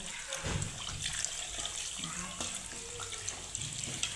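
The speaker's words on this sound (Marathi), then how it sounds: "आता ह्याला आपण पहिलं स्वच्छ धुवून घेऊया." Goat mutton pieces are rinsed under a running tap in a home kitchen, an uneven close splashing and trickling with a few handling knocks.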